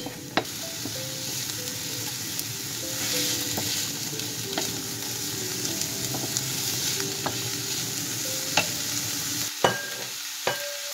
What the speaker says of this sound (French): Alors on fait revenir nos oignons